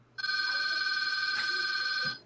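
A landline telephone in a studio rings with one steady, continuous electronic tone lasting about two seconds, clear and near, with a faint voice underneath.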